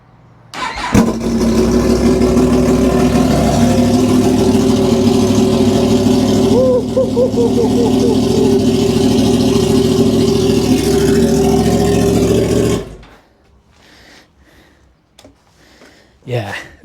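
Yamaha MT-10 SP motorcycle running with its exhaust can removed, starting abruptly and holding a loud, steady, rough drone for about twelve seconds with slight rises in revs, then cutting off to quiet background.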